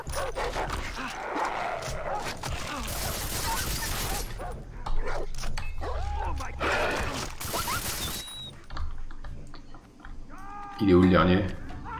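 Dogs barking and yipping in the Far Cry 3 video game, short bursts mixed among game sounds, with someone talking over them.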